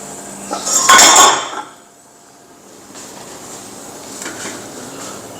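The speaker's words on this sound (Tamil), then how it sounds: "இப்போ நம்ம ஒரு பேன் வச்சாச்சு இதில் தான் போட்டு எல்லாத்தையும் வறுக்க போகிறோம்" A metal pan set down on a kitchen stove for dry-roasting spices, one bright clanking contact near the start, then quiet, faint kitchen noise with no talking.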